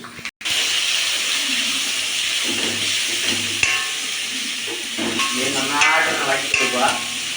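Upma mixed with onions is stirred in a hot pan with a ladle, giving a steady loud sizzle and hiss with scraping strokes and bubbling. The sound keeps going throughout without speech.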